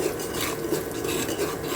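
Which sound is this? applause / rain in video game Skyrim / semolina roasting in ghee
semolina roasting in ghee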